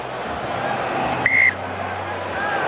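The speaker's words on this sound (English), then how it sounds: "Craig Gibert blows the whistle." A referee's whistle opens the second half of a New Zealand v Australia Tri Nations rugby union match in Wellington, one short sharp blast over steady stadium crowd noise.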